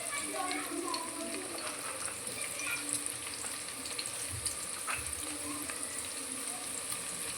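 Green chillies and onion fry in hot oil in a pan, a continuous close sizzle with a bright hiss under faint background noise.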